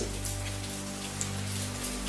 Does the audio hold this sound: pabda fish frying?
no